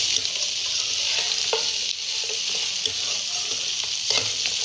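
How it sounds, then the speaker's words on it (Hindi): Boiled mutton browning in a hot pan for a dry mutton roast, a steady close sizzle with scattered stirring scrapes and ticks, no voices. "अब हम इसको अच्छे तरीके से ब्राउन करेंगे अपने गोश्त को, इसकी कलर चेंज करेंगे"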